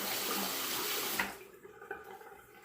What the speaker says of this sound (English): Let me drain this water and let me wet the razor.